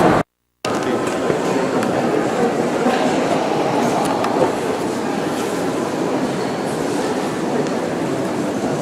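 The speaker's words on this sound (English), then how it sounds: "You like the train ride?" A small train rolls through a cave tunnel with a loud, continuous rumble and rattling wheels, steady and close throughout after a brief cut at the start.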